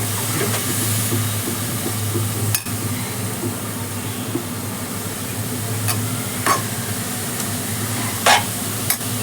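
Spinach and turmeric frying in oil in a pan for Marathi-style palak dal, a steady close sizzle and hiss with occasional scraping stirs and clinks, no talking.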